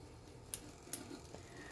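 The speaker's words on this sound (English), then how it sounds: "I'm going to cut it in half now." Scissors snipping through a sheet of paper to cut it in half, two sharp quiet snips followed by a softer one, close and isolated in a calm room.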